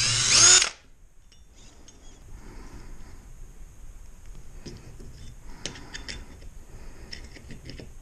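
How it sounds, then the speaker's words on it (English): A power drill bites into a plate in one short, loud burst as holes are drilled and tapped to 6 mm for kayak seat bolts, then the bench goes quiet apart from faint ticks and light tool clicks. "I am going to drill and tap them like here to accept the standard Dagger and Piranha bolts"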